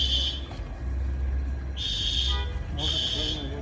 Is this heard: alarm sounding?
yes